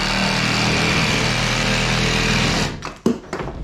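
A drywall saw buzzes steadily for a few seconds cutting an opening in drywall, then stops, leaving a few knocks and clatters as the cutting ends.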